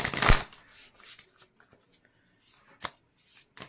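A burst of tarot card shuffling up front, then a few soft flicks and taps of cards spaced out, close and fairly quiet.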